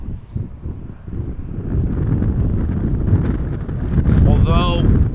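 Wind buffets a lavalier microphone outdoors near Amsterdam Schiphol Airport in a crosswind, a loud, rough rumble that swells and gusts, strengthening midway and roaring close to the mic.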